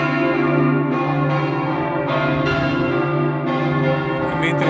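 Church bells of the Gemona cathedral ring out on a Sunday morning, a steady peal of overlapping strikes with rich sustained tones filling the air, heard at some distance and without voices.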